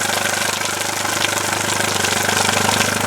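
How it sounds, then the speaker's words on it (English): A marine outboard engine idling at about 700 RPM during a flush, a steady close rumble with a fast regular pulse, continuous and loud throughout. "The outboard is turned on. It's right now idling at about 700 RPMs."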